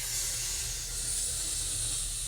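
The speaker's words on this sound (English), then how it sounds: "when I'm spraying, I'm not doing super quick sprays like this" An aerosol can of Plasti Dip sprays in one continuous, even hiss, close and steady, with a low hum underneath and no speech.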